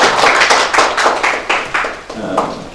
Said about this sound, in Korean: 박수도 크게 보내주시고요.